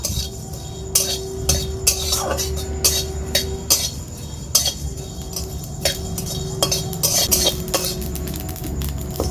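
Metal spatula scraping and clinking against a wok in quick, uneven strokes as whole cumin, coriander and dried red chilies dry-roast, with a faint steady hum beneath; no one speaks.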